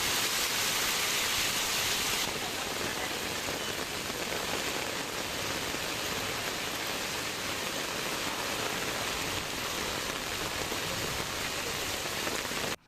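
Heavy rain with strong wind in Madurantakam, Chengalpattu district, Tamil Nadu, a dense, steady hiss of downpour that stays loud and unbroken throughout.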